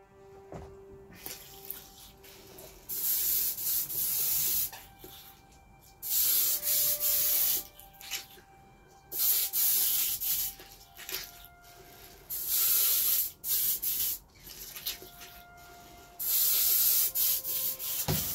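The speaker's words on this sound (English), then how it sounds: "So I'll clean my airbrush and we'll change the colour again." An airbrush being cleaned while painting a Forgeworld Custodes Caladius Annihilator grav tank model gives repeated loud hissing spray bursts of a few seconds each, separated by short quiet gaps.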